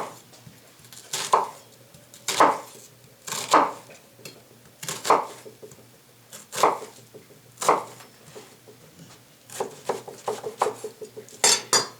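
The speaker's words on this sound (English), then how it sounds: "what I've got is a very large red onion that I cut in half. You can use the whole one. But we're going to go ahead and slice it." A knife slicing a very large red onion half on a cutting board, a steady series of about a dozen crisp chopping thuds, close and fairly loud, with no voices.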